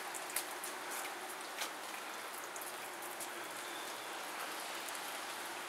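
Light morning rain falls steadily in Des Moines in December, a soft continuous hiss with occasional louder drops, fairly close and alone with no voices.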